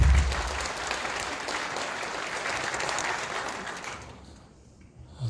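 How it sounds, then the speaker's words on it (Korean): A church congregation at an Easter joint worship service in Dongtan applauds to welcome a pastor, dense sustained clapping filling the hall before fading out near the end. "박수로 우리"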